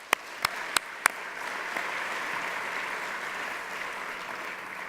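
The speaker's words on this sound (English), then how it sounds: "they do deserve a tremendous round of applause" A room of guests at an alumni award ceremony gives a committee a round of applause, steady dense clapping at moderate distance throughout, opened by a few sharp louder claps.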